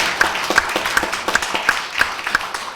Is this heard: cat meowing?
no